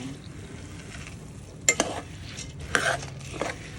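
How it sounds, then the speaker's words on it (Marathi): Whole masoor lentils stirred into tomato and oil in a pan, giving a few scraping and clinking spoon strokes against the pan over a soft, steady low background, with no voices. "मसूर चांगली मिक्स करून घेते"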